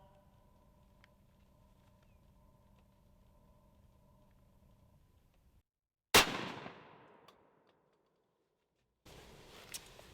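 A turkey hunting shotgun fires once at a pattern target outdoors: a single sharp, loud blast that rings and fades over about a second, after a faint steady hum and a stretch of quiet.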